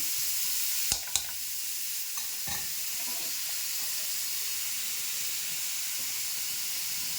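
Chhana, cottage cheese, frying in ghee gives a steady bright sizzle and hiss throughout, with a few sharp clinks of stirring near the start.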